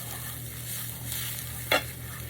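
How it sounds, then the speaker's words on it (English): Herbs, thyme and basil, being stirred into meat in a pan as the Italian spaghetti and meatballs sauce gets made, with a soft steady sizzle under the stirring and one brief louder scrape near the end. "Stir this in."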